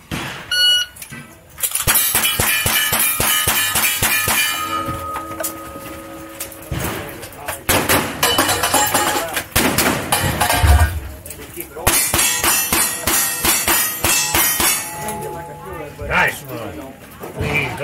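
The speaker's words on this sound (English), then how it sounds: "Engage 4 shotgun targets, and with the pistols, engage the pistol target, same as rifle." Rifle, shotgun and pistol shots ring out in rapid sequence at cowboy action shooting targets during a state championship match, loud sharp reports in quick bursts with short pauses, a voice briefly speaking near the start.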